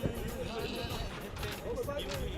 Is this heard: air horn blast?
no